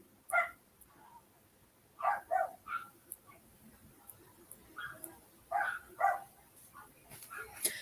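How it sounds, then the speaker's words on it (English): Several dogs bark and yip outdoors in scattered bursts, somewhat distant and muffled, with faint whimpers between the barks. "Can you guys hear dogs barking?"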